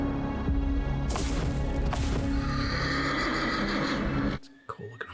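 A horse in the Castlevania animated series gives a loud, strong whinny over heavy clip-clopping hooves, the sound running steadily before cutting off abruptly near the end.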